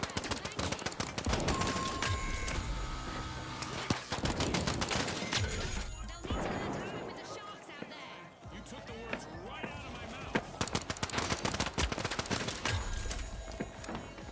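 Rapid pistol fire in the shooter game The Finals, a light pistol banging in dense bursts across a busy firefight, with short pauses between volleys.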